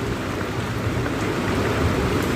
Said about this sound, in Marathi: गरजून गरजून पाऊस चालू आहे लय गरजून गरजून आता पाऊस वाहतोय